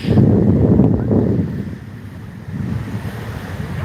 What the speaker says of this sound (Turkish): Az bir de rüzgarımız var. Dalgalanıyor bayraklarımız.